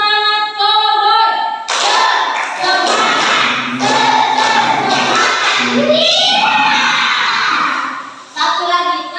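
A group of fourth-grade children in a classroom chant in unison and clap along in a brisk rhythmic pattern, voices and claps close and lively.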